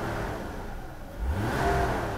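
A Mercedes W126 300SEL engine heard from inside the car, running steadily before being revved up sharply midway and held at a louder, higher pitch.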